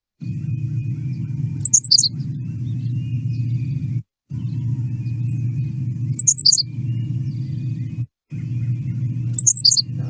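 Grassland sparrow song made of short, high hiccup-like notes, given as three brief bursts spaced about four seconds apart over a steady low rumble.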